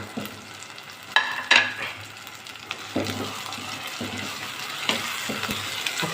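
Chopped tomatoes go into sautéed ginger and garlic in a pan for spicy fried goat liver, giving a soft, low sizzle with scattered clinks and scraping stirs of a spoon at irregular intervals.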